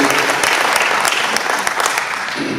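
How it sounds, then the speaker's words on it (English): At a fishing club meeting, a crowd gives a big round of applause, a loud, thick wash of clapping that holds steady throughout with only a slight tapering near the end. "Let's give them a big round of applause for always being the red carpet for our anglers."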